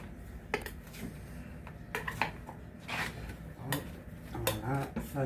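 The back of a spoon scrapes samosa dough off a tabletop in a series of close, uneven rasping strokes with soft scuffs between them.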